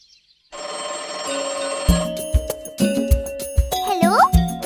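A telephone rings in a children's Hindi rhyme cartoon, a bright jingling ringtone mixed with bouncy music and sweeping cartoon effects.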